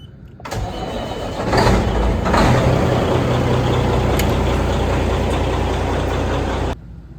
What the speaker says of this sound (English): now we're going to unhook the truck, pull it in the shop because we got some work to do on it